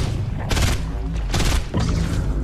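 Bursts of gunfire in Fortnite aimed at the cube, loud repeated volleys arriving in three heavy waves, with almost no speech.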